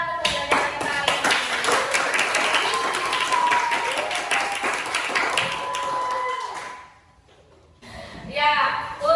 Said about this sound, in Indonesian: mari kita tepuk tangan untuk pembelajaran kita hari ini.